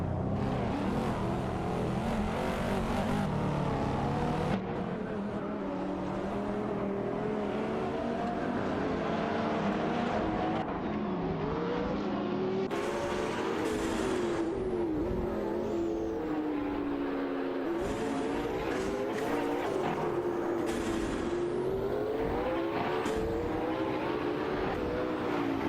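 Several race cars in an AI-driven racing video game, including a Porsche 911 991 Turbo and a Wiesmann GT, roar and rev continuously, engine notes rising and falling as cars pass and shift, loud and dense throughout.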